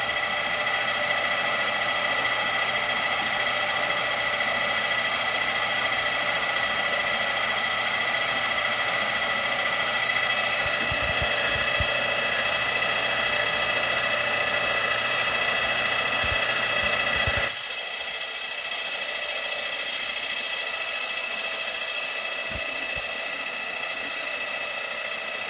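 A boring machine cuts a cylinder from a 1952 Harley-Davidson Servicar G 45 cubic inch engine, giving a steady, close mechanical whine and hum with brief knocks; the pitch and level drop partway through and continue more quietly.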